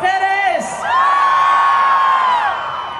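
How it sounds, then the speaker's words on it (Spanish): Women in a crowd at a fair concert by a live band let out a loud sustained collective shout and cheer, with high whooping voices swelling and holding for a couple of seconds before tapering. "¡El grito de las mujeres!"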